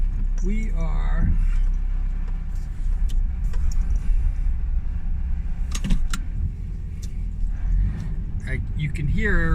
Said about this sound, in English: you can hear that rumbling sound